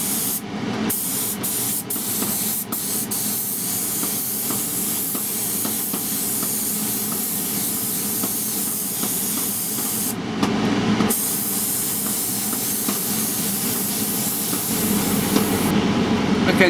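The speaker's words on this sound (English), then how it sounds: "let's load this up into the spray gun" Spray gun hissing steadily as it coats a custom airbrushed guitar in gold paint, a continuous close airy spray with two brief pauses partway through and another near the end.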